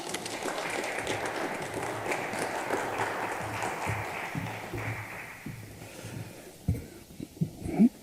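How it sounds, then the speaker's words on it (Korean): Applause from an audience fills the room, steady and dense, then thins out into scattered claps and small noises near the end. "박수로 환영하겠습니다"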